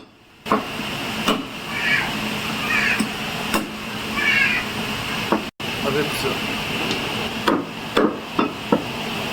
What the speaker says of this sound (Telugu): నల్లి బొక్కను చూడండి ఎలా కొడుతున్నారో